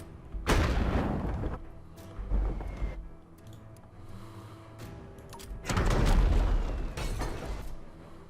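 Mortar fire in the naval battle game Factions & Forts, two separate heavy booming blasts several seconds apart, each a loud close burst trailing into a rumbling decay, with quieter clatter in between.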